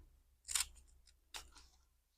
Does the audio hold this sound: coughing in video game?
no